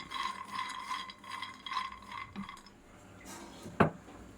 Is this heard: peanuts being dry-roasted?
yes